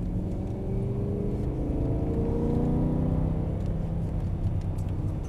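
A BMW E92 M3 with a 420 hp V8 accelerates on a racetrack, a loud continuous engine roar climbing steadily in pitch through the gears from close range.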